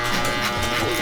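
An Andis hair clipper with a 0 clip buzzes close and steady during a fade haircut in a barbershop, a continuous electric hum over the brief moment.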